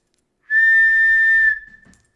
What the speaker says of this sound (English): just for me to blow the whistle